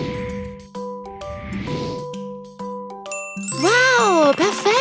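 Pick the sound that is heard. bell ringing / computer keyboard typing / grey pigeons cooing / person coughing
bell ringing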